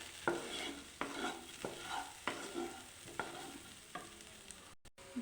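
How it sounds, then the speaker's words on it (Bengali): Turmeric and chili powder fry in a pan for masoor dal, a steady soft sizzle broken by about seven regular scraping stirs of a spatula, close and without any talk. "ভেজে নিতে হবে ভালো করে"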